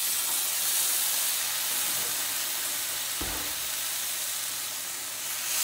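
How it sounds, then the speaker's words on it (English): Salmon sears in a hot pan with a loud, continuous sizzle and hiss, broken midway by a short thump as the fish settles. "So let's go ahead and get that into the pan for searing."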